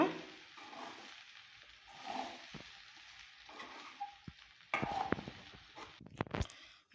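Cooked rice and brinjal are stirred and scraped in a pan for a brinjal rice lunch-box dish, with soft intermittent scraping, light sizzling and a few sharper clatters near the end, close and quiet, with no talking.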